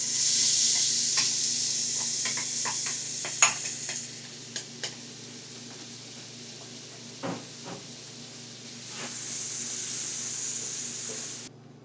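Onion cooking in melted butter in a pan, a soft steady sizzle with occasional stirring clicks and scrapes, fairly quiet and close, no talking.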